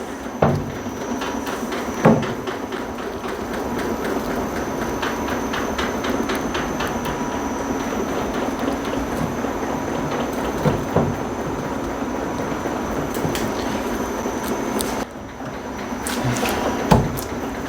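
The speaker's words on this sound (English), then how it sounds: "I'll show you how my capping plane process works." A honey capping plane slicing wax cappings off frames during a 2024 honey harvest, giving a steady close mechanical rattle and hum with a few sharp clunks as frames are handled, no talk.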